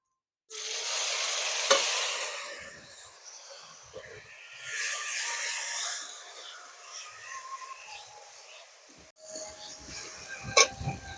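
Spice paste with pointed gourd pulp being sautéed, soft sizzling under slow scraping stirs that swell and fade in waves, with a brief sharp clink near the end.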